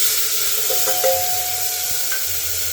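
Tomatoes hit a hot Indian tadka with whole red chillies, giving a steady, fairly close hiss and sizzle of frying with faint stirring clinks, no talking.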